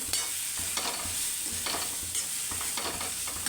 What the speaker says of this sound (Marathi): आता मस्त हे फ्राय होऊ देते